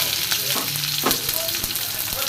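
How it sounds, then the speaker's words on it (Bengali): Chopped garlic fries in a pan of hot oil, a loud continuous close-up sizzle with scattered pops and a few stirring knocks. "রসুন কুচিটা একটু ভেজে নেবো ভালো করে"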